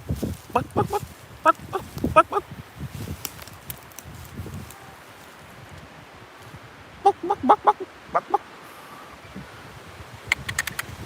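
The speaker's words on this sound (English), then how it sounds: "There's some chickens." Chickens on a hillside cluck and squawk in scattered bursts, fairly close, with quiet outdoor ambience between the calls and a little distant noise.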